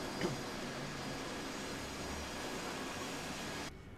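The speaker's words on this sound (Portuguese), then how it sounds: "Olha o som do motor." Steady, loud AV-8B Harrier jet engine roar in the DCS flight simulator over a Syrian map at late afternoon, a continuous broadband rumble that holds evenly before dropping off abruptly near the end.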